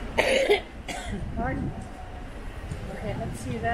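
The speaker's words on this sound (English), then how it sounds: "I was trying to hold back a cough." A single sharp cough is followed by throat clearing on a cruise ship deck on a sea day. A person talks quietly over soft outdoor background noise.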